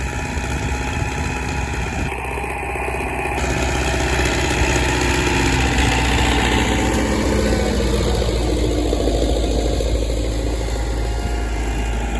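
A steady, loud tractor engine drones continuously at a low rumble while pulling a plough, with a rough mechanical texture that shifts slightly as it labors along.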